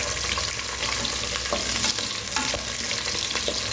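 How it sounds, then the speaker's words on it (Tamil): Onion and garlic sauté in hot oil in a pan for a Pudukkottai-style mutton curry, a steady close sizzle with a few stirring scrapes and no talking. "இந்த வெங்காயம் பூண்டெல்லாம் நல்லா வதங்கட்டும்"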